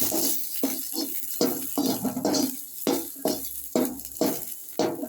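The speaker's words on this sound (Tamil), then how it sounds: "சின்ன வெங்காயத்தை அப்படியே நல்லெண்ணெயில் போட்டு வதக்கணும்" Small onions and tomato sautéing in sesame oil in a pan, heard as a steady rhythm of stirring strokes scraping the pan over a low sizzle.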